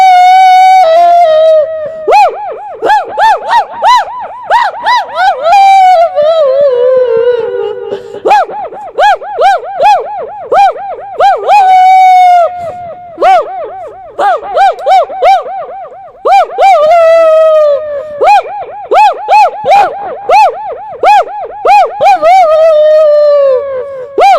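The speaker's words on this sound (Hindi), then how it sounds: "क्योंकि कुत्ते की आवाज तेज होती जा रही है।" Dog howls and yelps performed as a sound effect in a stage tableau of Dronacharya and Eklavya, rising and falling in long loud wails with sharp barking bursts, filling the whole stretch.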